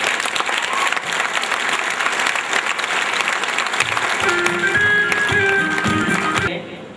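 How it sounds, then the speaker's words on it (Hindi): A seminar audience breaks into loud, sustained applause, many hands clapping densely together, with a faint tonal hum rising in the latter part before the clapping tapers off at the end. "एक बार ताली बजा देंगे थोड़ी देर।"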